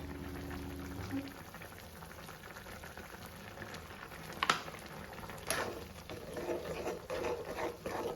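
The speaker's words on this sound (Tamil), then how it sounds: "இப்போ இந்த மாதிரி தலை தலைன்னு கொதிச்சு வந்துடுச்சுனாவே" Spiced tamarind curry liquid bubbles at a rolling boil in a pot, a soft close burble and patter with a sharp clink or two, under quiet background sound.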